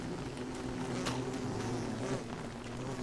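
Bees buzz steadily in the Don't Starve Together video game, a constant low drone with layered hum throughout and no talking.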